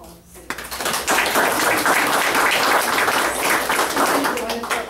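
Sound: applause

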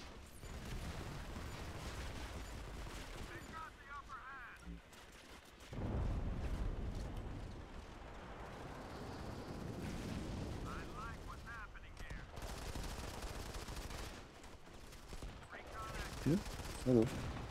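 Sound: gunfire in Modern Combat 5 video game

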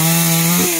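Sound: chainsaw cutting the base of a tram tree

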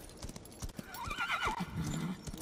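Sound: horse neighing and hooves clip-clopping in Darksiders 3 video game

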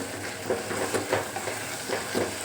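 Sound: stirring prawn curry after adding coriander powder

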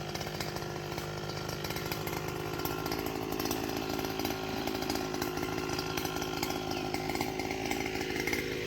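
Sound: brush cutter machine running

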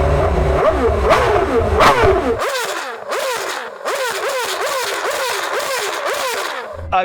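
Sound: Formula 1 naturally aspirated V8 engine revving

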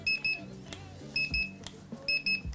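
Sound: thermometer beeping when measuring hot pancake delivery

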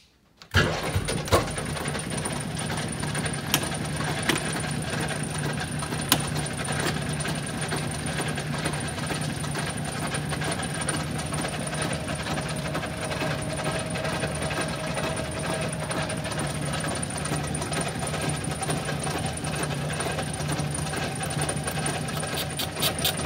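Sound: lathe surfacing top face of classic Mini cylinder head

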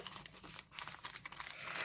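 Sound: crinkling paper surprise packets being unpacked

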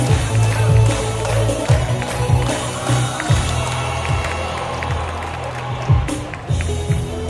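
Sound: applause at award ceremony

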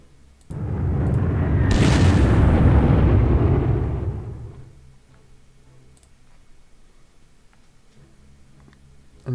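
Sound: bombers bombing enemy units in video game Panzer Corps Gold

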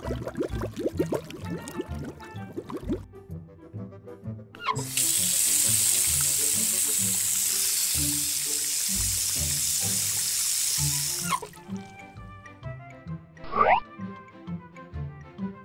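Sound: water running from tap, washing berries

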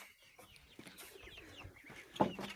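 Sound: chickens clucking

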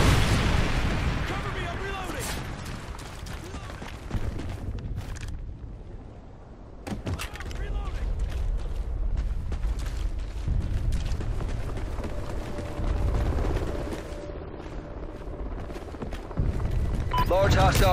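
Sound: Trinity rocket strike explosions in Call of Duty: Ghosts video game

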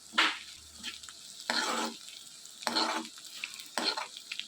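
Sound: bitter gourd pieces frying in a pan

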